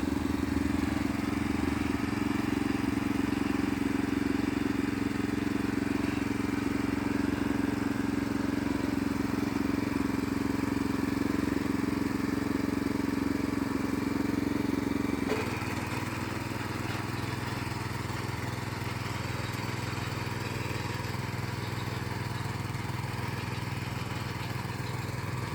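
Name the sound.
Krisbow cultivator engine running while tilling soil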